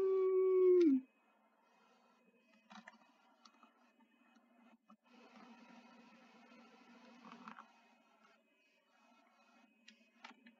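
A video-game dog lets out a loud, clear howl that slides downward over about a second, then the scene drops to faint background ticks and low game ambience.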